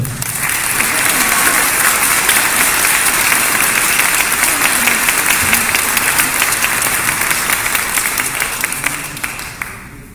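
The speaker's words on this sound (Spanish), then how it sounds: "recibamos con un fuerte aplauso a Mauricio Cruz Navarrete." Sustained, loud applause from an audience at a book presentation, dense clapping from many hands that holds steady for several seconds before tapering off.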